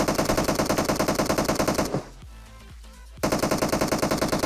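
Rapid automatic gunfire in the mobile shooter PUBG Mobile, loud and close. A steady stream of shots pauses for about a second with a few scattered reports, then the burst resumes.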